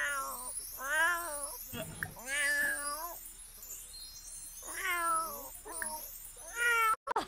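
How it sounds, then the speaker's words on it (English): A pet cat in The Sims 4 gives a series of meows, about five distinct calls, some rising and wavering like caterwauls, spaced across several seconds against a faint backdrop of game ambience. "Just love my kitty cat."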